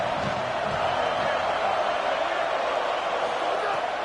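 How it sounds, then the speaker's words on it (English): A packed football stadium crowd at a game against Colorado sends up a steady, loud, unbroken roar for about four seconds, with no single voice standing out. "This crowd ready to make its presence known."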